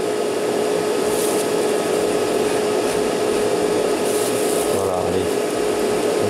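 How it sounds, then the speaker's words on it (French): A hair dryer blows gently over fresh paint on a Revell HLF 20 Varus 4x4 fire truck model kit, giving a constant close whooshing hum with a steady tone and slight shifts as it moves. "un léger petit coup de sèche-cheveux, hein, vraiment léger."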